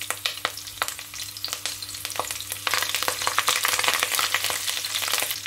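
Cardamom, cinnamon, cloves, rampe leaf pieces and curry leaves sizzle in hot oil for a soya meat curry. It is a busy, close crackle of sharp pops and spits over a steady frying hiss that grows louder partway through, with no voices.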